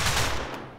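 A short burst of gunfire from the video game RimWorld, a loud, dense rattle of shots that fades quickly within a second.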